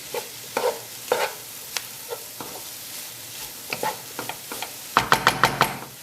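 A dry paneer curry sizzles in a pan while a utensil scrapes and taps it, in scattered strokes that speed into a quick burst of knocks near the end.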